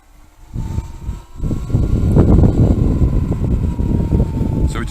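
A Sur-Ron LBX LightBee road-legal 6 kW electric motorcycle rides along, giving a steady close motor whine and rushing wind noise that builds after the first second and holds loud to the end.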